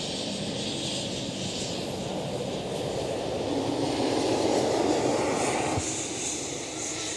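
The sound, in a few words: aircraft engine shutting down at Schiphol airport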